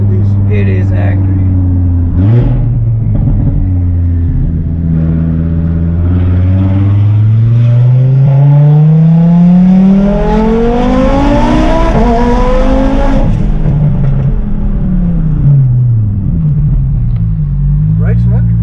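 A 1000 hp Audi RS3 engine revs hard and accelerates, its deep roar climbing steadily in pitch through the gears, loud and close from inside the car, then easing off near the end with voices briefly audible.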